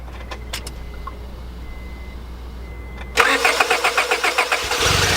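A Honda Prelude engine cranks and catches after a starter repair and a quiet idle stretch, then turns over with rhythmic, loud revving pulses close by.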